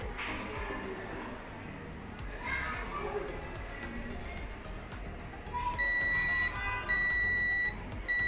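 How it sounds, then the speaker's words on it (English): A multimeter's high continuity beep sounds steadily in short repeated tones toward the end while testing a shorted line on an iPhone 7 board, loud over low noise and faint voices. "As you can hear from the multimeter, it's beeping."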